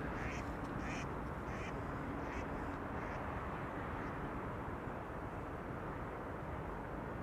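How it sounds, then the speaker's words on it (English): Ducks quack in a short burst of several calls near an airport canal, heard over steady loud background rumble before fading out, leaving only the broad noise. "Ooh, duckies."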